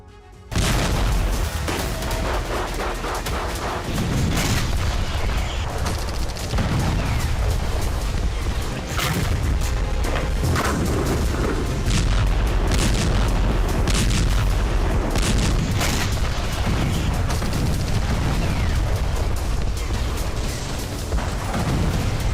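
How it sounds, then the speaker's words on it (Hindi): Repeated explosions from a rocket attack on Tel Aviv, heavy booms and rumbling blasts continuing loudly throughout amid a dense, noisy background. "कई जगहों पर धमाके हुए।"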